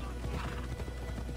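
Horse hooves clip-clopping with a whinny in the video game Assassin's Creed Odyssey, a steady clatter of hoof beats over a dense background mix, with a neigh mixed in throughout.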